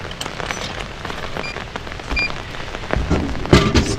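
Rain on a rainy morning near Lake Inawashiro in Fukushima, Japan, patters steadily on nearby surfaces with scattered louder drips and splashes, building toward the end, and no talking.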